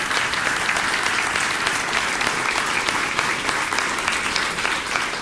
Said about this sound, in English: a round of applause for those that are here this evening.